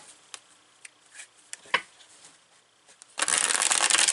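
Oracle and tarot cards being shuffled: a few light isolated card flicks and taps, then a dense, loud riffle of cards at the end, with no voices.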